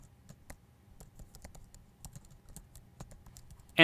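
Quick, light taps on a computer keyboard patter in an uneven rhythm, close and fairly soft, with no talking over them, ending in a sharper louder click.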